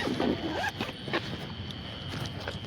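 A clothing zipper is pulled in a few quick rasping strokes, close to the microphone, with faint voices in the background.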